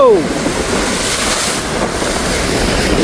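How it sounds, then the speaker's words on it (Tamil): Rough sea surging and crashing in a steady roar during a storm at Keerimalai, Jaffna, with wind buffeting the microphone and a brief voice at the very start. "என்ன மாதிரி கடல் கொந்தளிக்கிட்டு பாருங்க இப்போ"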